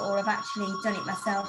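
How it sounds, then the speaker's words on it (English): An office telephone rings with a steady electronic tone running beneath a person talking close by. "Sorry about the phone going off from the office."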